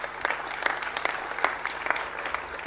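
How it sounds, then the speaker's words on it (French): An audience at a municipal New Year's greetings ceremony claps steadily, a dense, even patter of many hands over a low hum, fairly loud and unbroken. "on peut applaudir les services"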